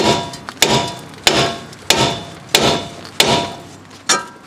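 A hammer strikes the steering spindle of a 2006 Nissan Altima 2.5L to free the outer tie rod end: about seven sharp metallic blows at a steady, roughly two-per-second rhythm, close and loud, with no talking.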